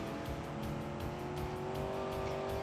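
A muscle car modelled on an old Oldsmobile 442, with a rear wing, spins its rear wheels in the driving game BeamNG.drive. A steady, loud engine roar blends with tire squeal throughout, close and continuous.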